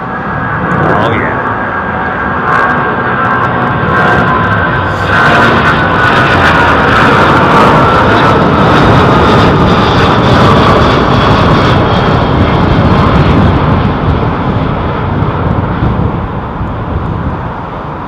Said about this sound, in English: Let's just let this 777 climbing out